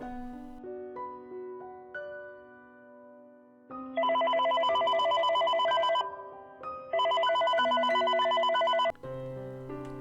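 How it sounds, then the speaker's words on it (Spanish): Telephone rings out in two long loud bursts with a pause between, over quiet tonal background music, the electronic bell tone bright and sustained, no talking. "el despiadado teléfono timbró de nuevo"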